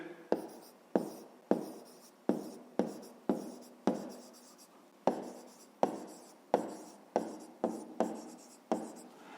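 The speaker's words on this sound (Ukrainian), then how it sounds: "Ну що ж, записуємо відповідь." Pen writing by hand on paper, a quick series of short scratching strokes with brief pauses between them, close and quiet, with no talking.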